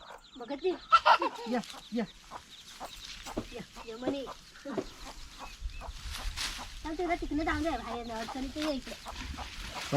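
Chickens cluck and squawk in short bursts close by, mixed with people talking over them and some handling noise.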